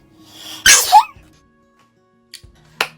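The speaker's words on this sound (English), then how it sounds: "I'm gonna sneeze." A single sharp human sneeze, close and loud, with a quick breathy tail, followed by a couple of faint clicks and small noises in an otherwise quiet room.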